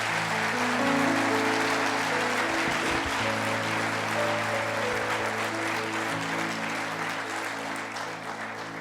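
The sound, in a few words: congregation applause in church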